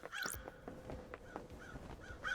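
Crows cawing in the Paradise Killer video game, several harsh calls spread across a short stretch with some overlapping, moderately loud against a low background rumble.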